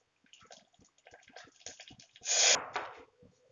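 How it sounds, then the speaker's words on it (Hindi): A bowl of water poured into a hot pan of dhokla tempering with green chillies and washed curry leaves on a gas stove, a short loud splashing gush after a run of small clinks and sizzles. "अब इसमें हम डालेंगे 1 कटोरी पानी।"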